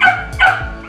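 A Belgian Malinois lets out two quick, close barks in succession, sharp and loud.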